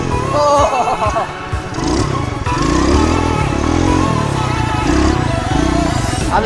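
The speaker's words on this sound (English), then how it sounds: "Ready for a wheelie, guys?" A motorcycle pulling a wheelie, with a loud, close engine that revs and surges throughout and whose pitch rises and falls as the throttle is worked.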